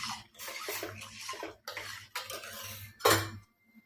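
Black urad dal kanji stirred in a pot, a ladle scraping and clinking against the metal in uneven strokes, with a louder clank near the end before silence.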